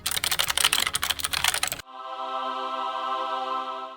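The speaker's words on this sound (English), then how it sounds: "I'm a huge fan of mechanical keyboards, so I use this Logitech MX Mini with super satisfying clicks." Fast, clicky keystrokes on a Logitech MX Mini mechanical keyboard rattle along in a steady flurry, then stop abruptly and a sustained electronic hum takes over.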